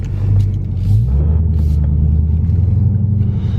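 A repaired salvage 2015 Dodge Charger Hellcat rumbles steadily while driving, its deep, loud engine drone heard from inside the car, with a slight shift in pitch early on and no talk.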